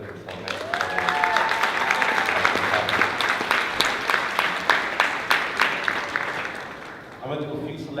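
An audience at a performance event gives a round of applause. The clapping is steady and fairly close, with crowd voices mixed in, and it fades out near the end as talking resumes.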